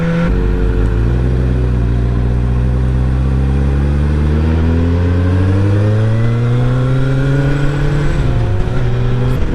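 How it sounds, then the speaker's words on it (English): A loud engine revs steadily upward in pitch for several seconds, a buggy's motor climbing and dipping again near the end, close and continuous. "Is that a motorcycle? That's a dune buggy."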